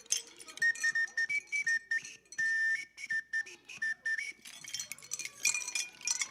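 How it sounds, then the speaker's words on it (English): An Oscar Mayer Weenie novelty whistle from 7-Eleven, blown in a string of short, shrill, slightly warbling toots with brief gaps between them, close and fairly loud. "It's called the Oscar Mayer Weenie whistle."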